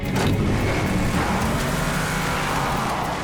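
A powerful car engine roars loudly and steadily up close, a deep rumbling growl throughout.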